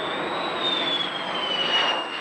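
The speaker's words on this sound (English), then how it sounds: "This F-111 is from the 20th Tactical Fighter Wing at Upper Hayford" A jet engine roars steadily from an F-111 of the 20th Tactical Fighter Wing at Upper Heyford, a loud continuous rush with a slowly shifting whine on top and no voices.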